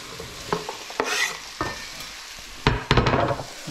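Potatoes tipped into a hot pan and stirred for a Hungarian potato stew, giving several scraping stirs and rustling bursts over a steady close-up sizzle, with no talking.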